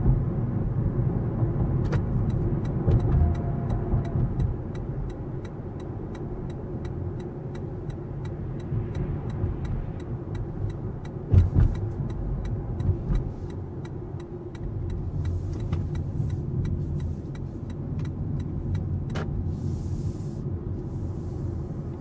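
A Toyota Prius Prime plug-in hybrid driving along a road, with a steady low cabin rumble of road and tyre noise, faint ticking and a brief louder bump midway.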